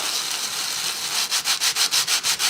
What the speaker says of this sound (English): hold the sandpaper flat, and you just rub it out, look.